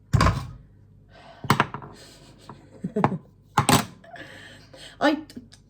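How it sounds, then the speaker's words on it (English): Carrots being chopped with a knife on a board, several separate firm thunks spaced irregularly with quiet gaps between them. "Now I'm going to cut up some carrots finally and some peas."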